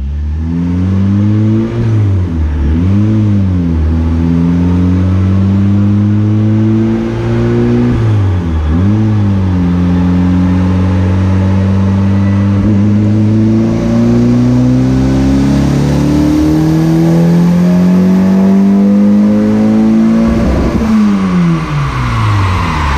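A Mazda Miata on a chassis dynamometer, its engine droning loud and close as it climbs through the revs in long pulls, dipping briefly between sweeps, then rising to a strained high-rpm howl.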